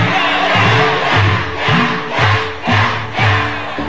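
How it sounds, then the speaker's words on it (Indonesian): Studio audience on an Indonesian TV talk show cheering and clapping, with a loud crowd roar swelling in repeated waves over about four seconds, no speech on top. "Baik, tepuk tangan."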